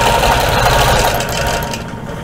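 A sewing machine runs loud and steady up close, stitching quilting lines across a feather and crosshatch quilt border, a dense continuous motor buzz that eases slightly toward the end.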